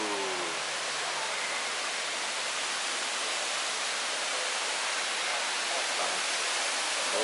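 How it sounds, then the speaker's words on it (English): Steady broadband rush of the large waterfall at Gardens by the Bay in Singapore at night, a constant roar with no breaks and no voices. "Waterfall view."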